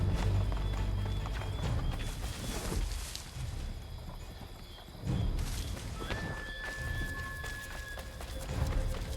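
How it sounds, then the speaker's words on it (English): A horse gallops in the video game Assassin's Creed 3, with rapid, loud hoofbeats running continuously in a steady rhythm. Game ambience and a faint sustained tone sit underneath. "Get back on the horse, Connor."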